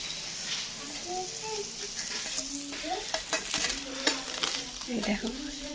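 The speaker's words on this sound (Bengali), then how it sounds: "আপাতত একটাই ভাজছি।" Food fries in refined oil over a medium flame, giving a steady sizzle with scraping stirs and light pan clinks throughout. A faint voice may be present underneath.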